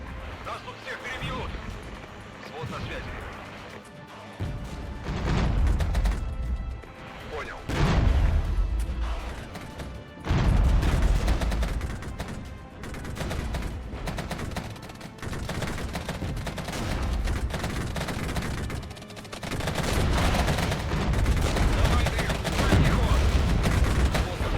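Artillery barrage in the war game Regiments, repeated heavy booms and rumbling impacts rolling in waves amid gunfire crackle, with a voice talking over it throughout.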